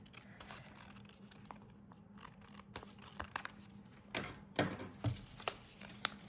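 Scissors snipping around a paper envelope flap, soft crisp cuts and rustles close by, irregular and quiet, growing more frequent toward the end.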